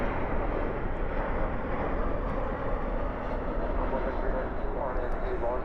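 Airbus A321 jet airliner arriving at DFW airport at night, a steady broadband engine roar holding loud and even throughout, with no distinct peaks.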